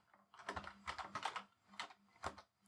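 Quiet computer keyboard typing in short bursts of close key clicks, with a brief pause before the final few keystrokes, as code is entered.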